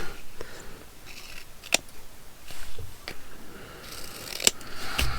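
Scissors snip at an altered playing card in a few close, crisp cuts spaced through a quiet room, with faint handling rustle between them and no talking.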